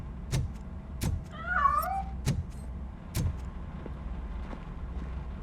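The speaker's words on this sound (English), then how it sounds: "That cat must be hiding inside." A cat meows once in the Robocop Rogue City video game, a short wavering cry standing out among sharp thumps and clicks over a low steady hum.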